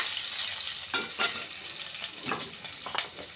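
Green chilli pieces fry in a hot pan with a close, steady sizzle, a few spoon scrapes and taps punctuating the hiss over a few seconds.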